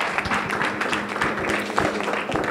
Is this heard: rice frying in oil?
no